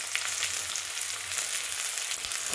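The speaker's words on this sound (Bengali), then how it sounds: "পেঁয়াজগুলো ভাজা হচ্ছে" Onions fry in hot oil after garlic for an egg curry, giving a close, steady, loud sizzle with a constant crackling hiss and no voices.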